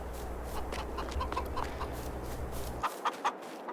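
Chickens cluck repeatedly in a farm setting in Farming Simulator 22, a steady busy flock with a few sharper clucks near the end as the background hum drops away.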